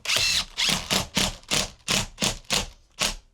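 A power drill drives screws into tile-backer wall board, sounding as eight short, loud whirring bursts in an even rhythm, each separated by a brief pause, close by with no talking.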